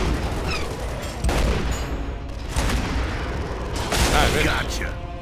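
Gunfire in a Gears of War 2 firefight, with bursts and booms spread across the clip, layered under a male player's excited talk.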